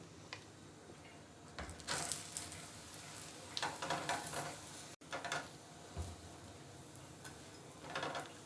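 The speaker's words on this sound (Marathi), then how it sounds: "सगळ्या बाजूनी हा परोठा आपण तव्यावर शेकून घेऊया" Methi paratha made with maize flour roasting on a hot tawa, a soft, low sizzle with intermittent bursts of crackling as it is pressed and turned.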